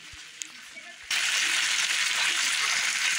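Potatoes pan frying, with a quiet start and then a loud, steady hiss of sizzling that runs on unbroken to the end.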